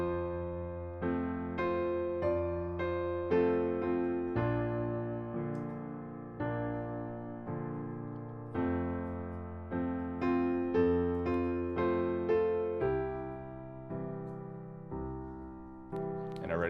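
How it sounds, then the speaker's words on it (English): Piano hymn accompaniment, right hand playing the melody as written while the left hand adds octave chord patterns, giving a fuller, steady chordal sound; close and clear, solo piano without speech. "I'm just going to play the right hand as written, and the left hand I'll do the octave chord."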